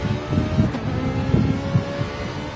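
A Ferrari GT race car in a sim-racing league event on the Deep Forest circuit, engine droning and surging in pulses as it passes, with wind-like noise over the steady mechanical roar.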